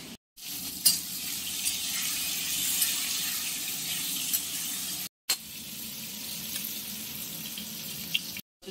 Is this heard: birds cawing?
no